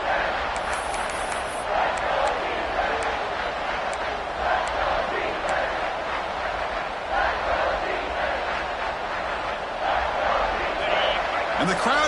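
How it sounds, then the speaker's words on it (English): A stadium crowd roars in College Football 26 as Mississippi State's defense digs in near the red zone. The cheering is a steady, broad wash that swells in waves, with a commentator's voice running over it. "the crowd coming to life here, trying to help this defense down in the red zone"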